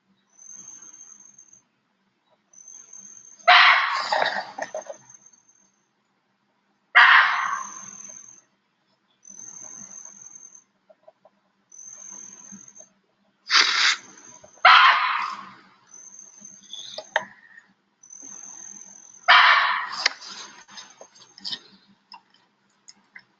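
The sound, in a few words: barking deer alarm call in the jungle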